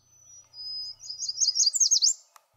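A single small bird singing up close in quiet surroundings: a thin high whistle followed by a quick run of rising and falling chirps and trills, ending with a short click.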